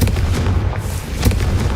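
A Confringo blasting spell from Hogwarts Legacy erupts in a loud, close, booming burst, like artillery fire, over a dense rumbling background.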